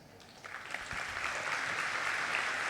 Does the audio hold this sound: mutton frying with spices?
no